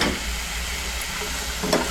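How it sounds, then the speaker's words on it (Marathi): Sliced onion fries over a high flame in a pan, a dense, even hiss of sizzling oil close by, with a brief stir near the end and no speech. "हे कांदा पूर्ण परतून घेते थोडासा नरम होईपर्यंत. मला गॅस पण फास्ट करते."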